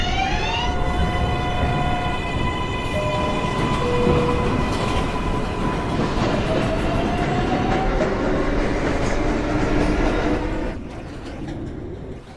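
A Manhattan-bound 4 subway train running near 33rd Street gives off a loud, continuous rumble and rattle, with rising and falling whining motor tones and screechy squeals that thin out near the end.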